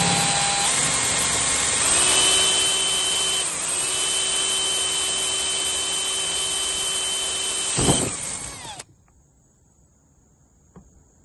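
A power drill bores into a harpsichord's wooden leg, making a loud, steady, high whine for about eight seconds, then it stops abruptly and leaves near silence with a faint click.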